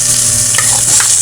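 Onions and tomatoes sauté in hot oil in a pot, a loud, steady sizzle with a few brief stirring scrapes on top.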